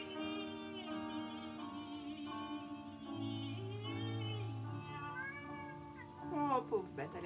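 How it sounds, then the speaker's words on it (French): A domestic cat meows several times while held and prompted to mew in rhythm, its cries mingling with a tonal sung line and light handling noise, close and moderately quiet. "Je vais essayer de faire miauler mon chat en rythme"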